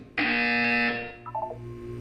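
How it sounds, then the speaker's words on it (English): A loud, harsh electronic buzzer from the video game Portal 2 sounds once for about a second, followed by a few short fainter beeping tones. "You will hear a buzzer."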